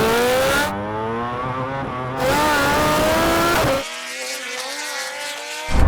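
At a drag race start, a vehicle revs hard and accelerates away through rising engine pitch sweeps and gear steps, loud and close at first, then dropping sharply as it pulls into the distance.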